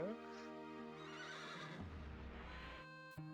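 A horse whinnies in a long, wavering neigh with a faint clip of hooves in the video game Wild ARMs, fairly quiet and slightly synthetic in tone.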